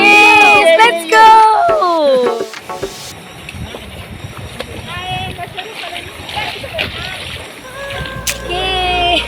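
Water splashes and sloshes around swimmers on a snorkeling trip at Sarang Baung in North Nias, with excited talk and laughter over the splashing at first, then choppy water movement with scattered voices.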